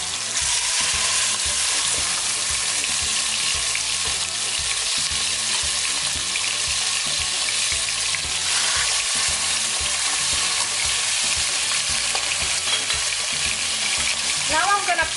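Chicken sizzles loudly in a pan over medium heat for an Ecuadorian peanut butter chicken dish, a dense continuous crackle and hiss close by, with faint stirring and no talk.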